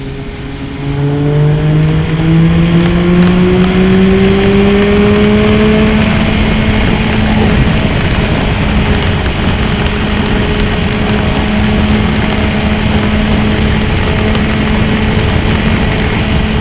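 A Triumph Speed Triple 1200 RS motorcycle fitted with a Zard exhaust revs loudly and up close, its engine note climbing through rising sweeps and then holding a steady, raspy drone.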